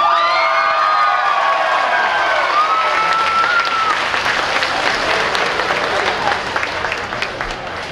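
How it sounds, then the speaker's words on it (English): Loud, sustained audience applause with scattered cheers and whoops erupts for a winner of the adult cosplay masquerade contest at Bell County Comic Con 2023, staying dense throughout before thinning slightly at the end. "Please give a round of applause"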